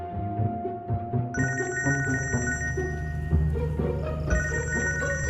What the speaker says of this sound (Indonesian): now telepon Donald sama Kiko